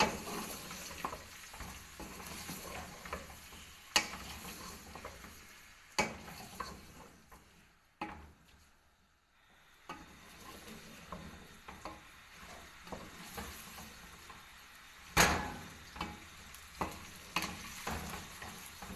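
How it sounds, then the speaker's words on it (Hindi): Boiled chicken frying in a pot with golden brown onions, a close crackling sizzle under frequent scraping stirs and knocks, with one brief quiet gap midway and no talking. "अब हम इसमें ये डाल देंगे और थोड़ी देर इसको फ्राई करेंगे।"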